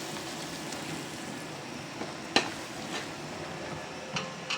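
Spices stirring and toasting in a pan, a soft continuous sizzle with faint scraping. A few light clinks of the utensil against the pan stand out, close and quiet, and no one speaks.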